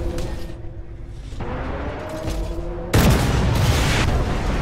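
Missile strike from a Type 80 vehicle in a combat video game: a steady rumble of distant battle noise, then a sudden loud broadband impact near the three-second mark that sustains as a heavy roar to the end.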